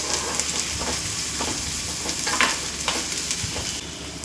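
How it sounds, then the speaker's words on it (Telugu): Onions frying in oil for brinjal biryani give a steady, close sizzling hiss, broken by a few soft clicks and scrapes from stirring. No voices are heard. "ఈ ఆనియన్స్ని ఇప్పుడు ఫ్రై చేసుకుంటాం. అయితే బాగా ఫ్రై అవుతున్నాయండి"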